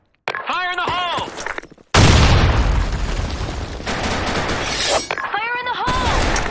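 A grenade blast in a tactical shooter match on a sandstorm map bursts loud and broadband, then a long roaring, crackling tail rolls out as shouting voices sound before and after.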